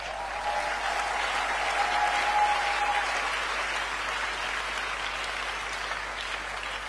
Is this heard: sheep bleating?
no